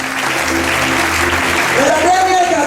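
A church congregation applauds during a service, a dense patter of clapping mixed with voices and sustained tones throughout.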